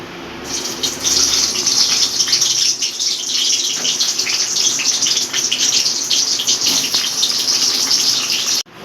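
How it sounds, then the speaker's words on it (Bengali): Stuffed pointed gourd (potol dolma) fries slowly in oil over medium heat, giving a steady, loud, hissing sizzle that runs almost unbroken from start to finish with no voices. "এগুলোকে আমি আস্তে আস্তে খুব সাবধানে ভেজে নেবো, যাতে পুরগুলো বেরিয়ে না যায়।"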